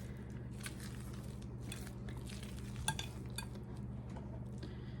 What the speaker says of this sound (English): We're gonna fold those into our batter just gently because I don't want to overmix this.